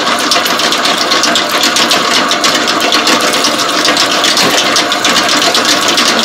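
A Gomesin bread dough mixing machine runs with a steady, loud motor whir and a rapid, even mechanical chatter, constant throughout with no one speaking.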